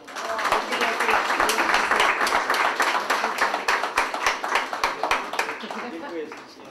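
Applause at a sports awards ball as a statuette is handed over, a sustained burst of clapping from the crowd with sharp individual claps, steady and fairly loud throughout.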